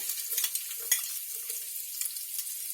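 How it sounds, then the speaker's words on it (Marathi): Ginger and garlic frying in hot oil for fried rice, a steady faint sizzle with soft scraping stirs and one sharper clatter partway through. "आता मी तेल टाकलंय, त्याच्यामध्ये अद्रक लसूण टाकते"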